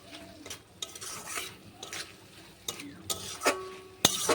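Bitter gourd and potatoes are stirred in a pan with a little water, giving intermittent scraping and clattering strokes over a faint sizzle, with a sharper knock near the end.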